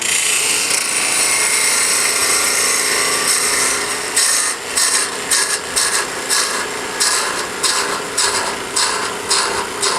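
A shop-made parting tool cuts into wood spinning on a lathe for a small screw lid, making a loud, close, continuous scraping hiss that turns into rapid rhythmic chattering bursts in the second half.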